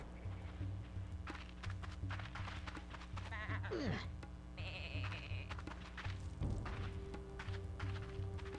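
A sheep bleats in the Tak and the Power of Juju video game, its wavering cry rising briefly mid-clip over low game music, followed by a second, shorter call.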